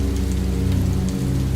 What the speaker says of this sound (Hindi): मर्चेंट थोड़ी ही दूर पहुंचा था कि अचानक बिजली कड़कने लगी और तेज बारिश भी शुरू हो गई।